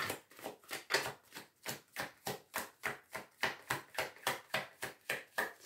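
A deck of tarot cards being shuffled by hand, a steady run of about twenty crisp, rhythmic riffle-like snaps that stay close and fairly quiet with no talk.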